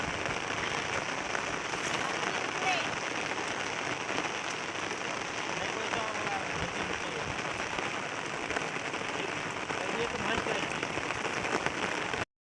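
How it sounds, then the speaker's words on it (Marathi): Heavy rain pours steadily on a waterlogged village field, a dense unbroken hiss with scattered patters that holds at an even, loud level for the whole stretch before cutting off abruptly. "मित्रांनो साडेचार झाले तरी पण अजून पाऊस थांबलो नाही बघा"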